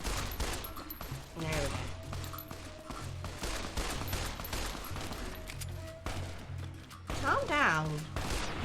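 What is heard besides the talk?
gunfire from a 10mm pistol in Minecraft Fallout mod video game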